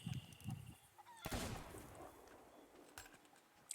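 Gunshot in a pirate video game as a bird is shot, one sharp broadband blast near the middle, with softer game sounds and smaller pops around it, close and moderately loud.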